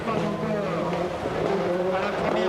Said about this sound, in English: drifting the car through there and onto this straight